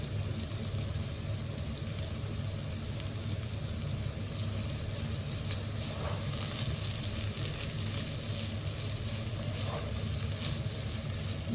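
Bitter gourd keema frying in a pan gives a steady close sizzle, with soft scraping stirs and light clinks throughout.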